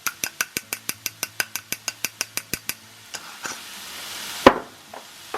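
Black beans with taco-style Mexican Fiesta seasoning stirred in a pan: a quick, steady series of about fourteen sharp scraping clicks, then softer sizzling and one louder clatter, close and clear with no talking.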